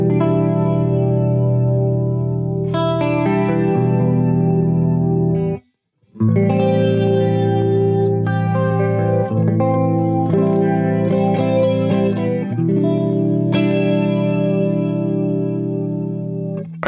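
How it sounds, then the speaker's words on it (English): Electric guitar with chorus and echo effects plays minor 7 chord variations, each chord strummed and left to ring, with a brief pause midway before the chords continue, close and fairly loud. "this is how these chords sound pretty much"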